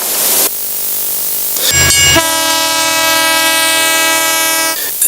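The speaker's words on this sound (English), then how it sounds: "The blaring sound of the locomotives set in motion" Locomotive horn blaring as a train moves, a long loud multi-tone blast after a brief rumbling gap, sustained for several seconds over the rolling of the train.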